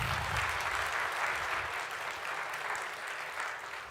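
Steady applause from a church congregation at a Korean Sunday worship service, dense clapping of many hands held at an even level for several seconds, somewhat distant and without talk.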